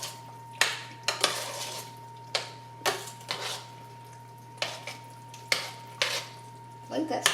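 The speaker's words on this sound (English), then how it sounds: "just a little bit of a shake and stir that in" A spoon stirs black pepper into chicken pot pie filling in a pot, making a series of sharp clinks and scrapes at irregular intervals against a quiet background hum.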